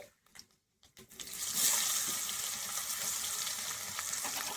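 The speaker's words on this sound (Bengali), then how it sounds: "পেঁয়াজটা একটু হালকা করে ভেজে নেব।" Chopped onion frying in oil left over from fried bata fish, with panch phoron; a few soft clinks and rustles give way to a loud, bright, steady sizzle that holds close and constant.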